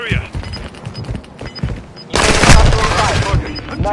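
Rapid gunfire erupts in the Warzone video game, a dense, loud burst of shots and booms that swells halfway through, with a voice talking over the earlier part.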